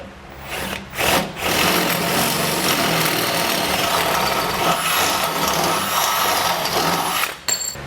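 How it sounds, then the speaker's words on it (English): A power drill whirs steadily for several seconds after a brief start-stop, enlarging a hole in a metal frame on a 2020 Jeep Wrangler, close and loud, then cuts off near the end. "So I'll take my drill bit and run it through."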